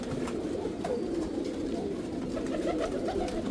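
Several pigeons coo in low, throaty, overlapping calls, close and steady throughout, with no talk over them.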